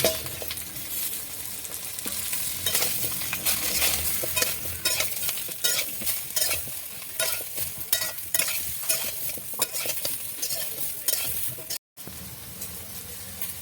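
Cut mango pieces fry in hot oil with dried red chilli and five-spice (panch phoron) for pickle, giving a loud, continuous sizzle with crackling pops and stirring scrapes and a brief dropout near the end.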